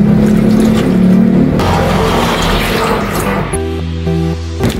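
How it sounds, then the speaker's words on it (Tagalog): Water pours into a pot of cooking pork lechon paksiw, a loud continuous gushing stream that shifts in tone partway through, over a steady musical hum. "Siyempre guys, dagdagan natin ng tubig."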